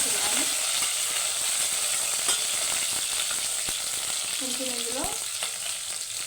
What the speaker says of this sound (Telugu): ఆనియన్, కట్ చేసి పెట్టుకున్న పచ్చిమిర్చి ఒకసారి కలిపేస్తున్నాను.